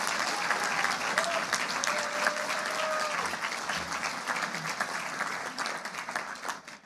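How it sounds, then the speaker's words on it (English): An audience applauds the senior leadership team at a college general assembly in a hall, steady dense clapping throughout that tapers slightly toward the end, with a faint tonal whistle or feedback line early on. "I think they all deserve a huge round of applause."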